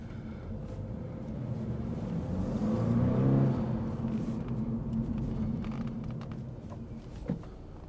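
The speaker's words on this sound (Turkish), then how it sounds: "Japon aracını bir de yolda deneyelim. Bakalım performansı nasıl bu aracın." A 2022 Toyota GR 86 driving on a road, its engine giving a steady low drone with road noise that swells slightly mid-pass and then settles, heard from inside at moderate level with no talking.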